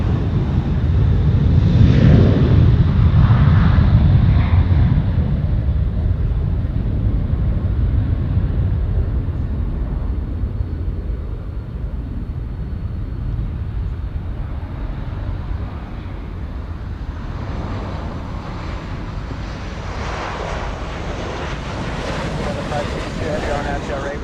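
An Alaska Airlines airliner moves at Los Angeles International Airport, giving a steady broad roar that is heaviest at the start and eases into a long windy rumble with no break.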